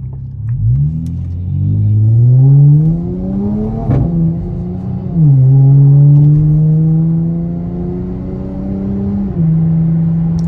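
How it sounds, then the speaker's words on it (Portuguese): A Dodge car engine revs hard and loud nearby in sport mode, pitch climbing to a sharp peak, then settling into a deep, throaty rumble with further rises and drops. "Mas esse ronco aqui é lindo demais"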